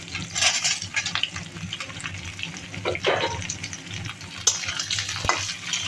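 Black cumin and green chilli frying in oil, with cut eggplant and potato added for a fish curry, producing a busy close sizzle with splashy bursts and scraping stirs, no voices.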